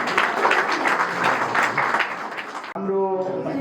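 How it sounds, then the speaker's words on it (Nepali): Wedding guests at a ceremony break into a dense burst of clapping, filling most of the moment before a voice starts speaking near the end. "सबैले ताली बजाइदिनुहुन्छ"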